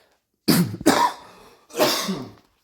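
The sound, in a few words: coughing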